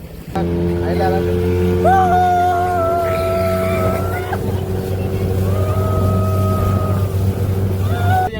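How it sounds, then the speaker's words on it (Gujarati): A motorboat ride at Shivrajpur beach near Dwarka, with a steady, loud engine drone that carries through the whole clip, whining pitch changes on top of it, and people talking over the motor. "આપણી બોટ આવી ગઈ છે એમાં ત્રણ જણા જઈએ છીએ"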